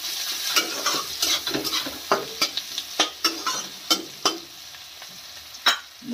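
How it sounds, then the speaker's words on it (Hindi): Salted onions fry in a pan for paneer masala, a bright crackling sizzle broken by a regular series of loud spoon scrapes and taps against the pan, close and clear. "और ये देखिए प्याज एकदम मस्त तरीके से फ्राई हो रहा है"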